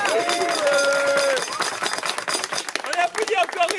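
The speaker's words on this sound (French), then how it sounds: "On applaudit encore Ryu." An audience at a slam poetry night claps for a first-time poet, quick scattered claps mixed with crowd noise while voices talk over it and someone briefly sings or calls out.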